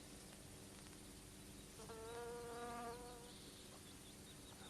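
A bee buzzes while gathering nectar among flowers, a faint steady hum that swells briefly as it passes nearer, over a low constant background.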